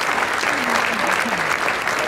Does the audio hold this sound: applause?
yes